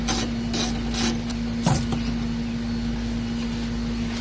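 Ratchet fitted with a 10 mm socket backs out bolts during a speaker replacement on a 2014 Kia Cadenza, giving a few short bursts of clicking early on over a steady low hum, then quiet.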